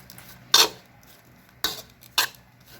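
Egg mayo filling seasoned with salt and pepper being stirred in a bowl, three sharp utensil clinks against the dish, spaced apart, close and loud over a quiet background.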